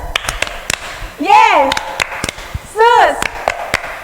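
Children in a church kids' service clap along to the 'Tepuk Yesus' chant, a sharp, rhythmic series of hand claps under an adult voice leading with two drawn-out sung calls.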